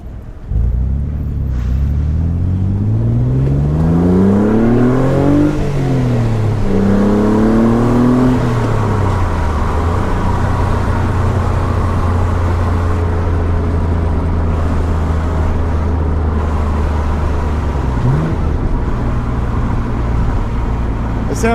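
A Renault Clio V6 Sport Phase 2 engine revs up loudly through rising gear sweeps, falls back, climbs again, then settles into a steady close drone, with a brief blip near the end.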